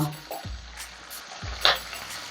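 Curry leaves, green chilli and small onions sauteing in hot oil for a Kerala fish curry, a soft steady sizzle with a few stirring scrapes and a brief spatter, fairly quiet and close.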